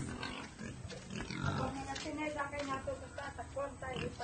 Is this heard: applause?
no